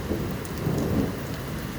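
A thunderstorm with steady heavy rain on surfaces and low rumbling thunder rolling underneath, loud and continuous throughout with no voices.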